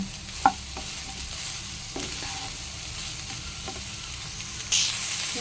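Tomato and green chili frying together in a pan, a steady hiss of sizzling oil broken by a few utensil knocks and stirring scrapes, close and even, no speech.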